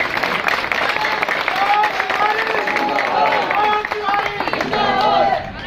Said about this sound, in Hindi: कभी कभी हो सके तो हमारे लिए ताली बजा दीजिए।